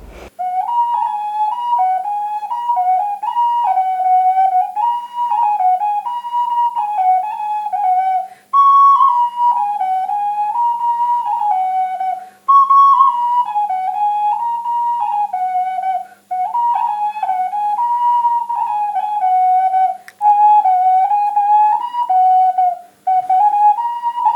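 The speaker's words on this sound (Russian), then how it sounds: "это глиняные свистульки, шулан, щуй-шулан" A bird-shaped red clay whistle plays a clear, bright warbling melody, pitch bobbing up and down in repeated phrases with brief pauses between them.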